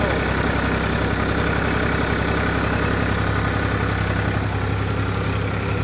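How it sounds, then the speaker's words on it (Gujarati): A tractor engine runs at a steady, loud, low drone with a constant throb and no pauses as it drives into deep water in a field. "અહીંયા આગળ પાણી વધારે છે તો ટ્રેક્ટર કેટલું અંદર જાય છે"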